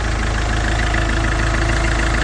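An Iveco Daily flatbed's 2.3-litre turbodiesel engine idles steadily and close by, a low, even rumble with a faint rhythmic knock running throughout.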